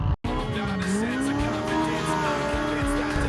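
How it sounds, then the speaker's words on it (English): A supercharged Can-Am style Pro R4 UTV engine revs hard at an off-road event, a loud, steady, close engine drone whose pitch swells and dips throughout after a brief dropout at the start. "Dude, that Pro R4 sent it. I think it was supercharged."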